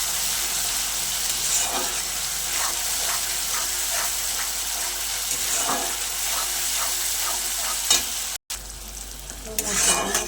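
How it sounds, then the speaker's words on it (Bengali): Tomato, ginger, garlic and onion frying in oil and stirred in a pan, giving a continuous sizzle with rhythmic scraping strokes. A brief dropout comes near the end, followed by a louder burst of sizzle. "টমেটোটাও আমি তেলের সঙ্গে 3-4 মিনিট ধরে নাড়াচাড়া করে নেব।"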